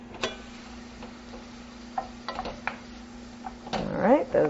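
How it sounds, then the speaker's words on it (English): Onions being stirred in a pan while a Greek spinach pie is prepared, heard as quiet scattered utensil clicks and scrapes over a faint low sizzle, with a louder clatter of stirring near the end. "Let me give my onions a little bit of a stir here."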